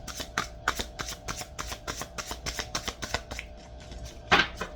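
A deck of tarot cards is shuffled close up, a quick rhythmic series of crisp riffling flutters, about a dozen bursts, with no talking.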